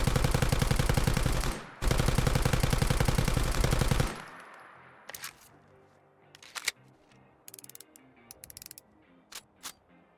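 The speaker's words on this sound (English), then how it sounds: "this drum mag has a really cool reload that I think you guys will like a lot" A 12.7mm SMG with a drum magazine in a Fallout 4 mod fires a loud, rapid burst that cuts off briefly and then resumes. After the firing stops, a series of quieter mechanical clicks and clatters follows as the drum magazine is reloaded.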